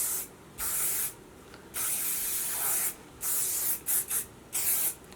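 Hairspray hissing from an aerosol can onto a section of hair, in about six separate close bursts of varying length, some brief and some lasting over a second, with quiet gaps between.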